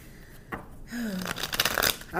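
Cards are shuffled up close, a quick run of crisp riffling flutters with soft rustling and a brief vocal sound in the middle.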